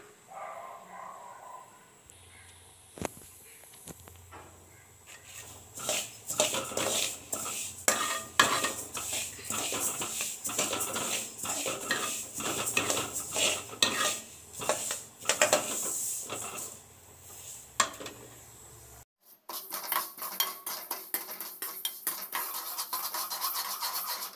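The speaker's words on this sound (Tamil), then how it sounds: "இதை வந்து நம்ம ட்ரை ரோஸ்ட் பண்ணும்போது கொஞ்சம் கிண்டிக்கிட்டே இருக்கணும்" Sesame seeds being stirred while dry roasting in a pan for sweet sesame balls, a close, busy scraping and rattling of spoon against metal, with a pause and a quieter stretch near the end.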